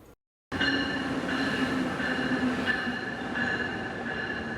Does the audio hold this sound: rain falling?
no